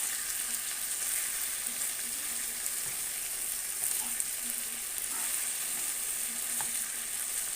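Sausage being stirred and fried in a pan with a sprinkle of dried coriander, giving a steady, close sizzle with light scraping from the stirring and no voices.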